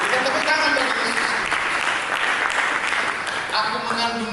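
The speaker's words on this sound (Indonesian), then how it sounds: "Berikan tepuk tangan bagi Yesus" A church congregation at a Christmas Sunday service applauds loudly and continuously, a dense wash of many hands clapping with voices mixed in.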